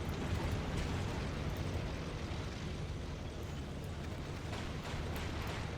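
Missile strikes from anti-tank guided weapons in the Men of War war game, heard as a muffled, sustained rumble of distant blasts at low level, with no voices.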